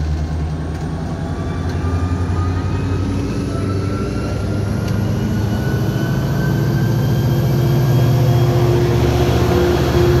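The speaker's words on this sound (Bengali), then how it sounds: "ট্রেনটি চলতে শুরু করলো।" A metro local train pulls away from a station, a steady low rumble and rising whine growing slightly louder as it gathers speed, with no talk.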